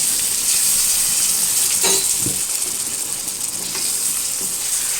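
Bitter gourd kuzhambu with tamarind and chili powder bubbles in a pan, giving a constant hissing, sizzling boil with a few soft stirring knocks and no talking.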